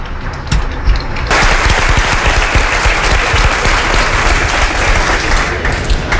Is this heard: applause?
yes